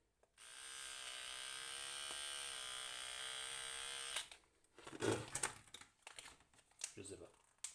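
An electric razor buzzes steadily for about four seconds, then breaks into uneven scraping, crinkling and handling noises close by as the shave continues.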